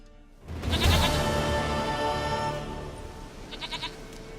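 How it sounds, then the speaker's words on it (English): A goat bleats in The Witcher 3, one long, loud, wavering cry that rings out close by and fades, followed by a few short, faint bleats. "Dearest, sweetest goat."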